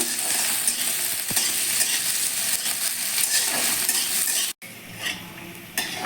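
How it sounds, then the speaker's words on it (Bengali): Onion lightly frying in a pan in a little oil for a dal and spinach dish, giving a continuous close sizzle with a few utensil clinks, briefly cut off near the end before resuming more quietly. "পেঁয়াজটা একটু হালকা ভেজে নেব"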